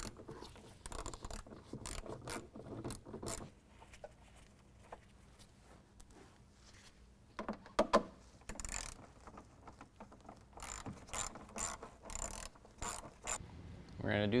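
Ratcheting wrench work loosening two 7mm bolts on the front fender panel of a 2015 Ford F-150 during bumper removal, with bursts of ratchet clicking and metallic clatter up close, separated by quieter handling pauses.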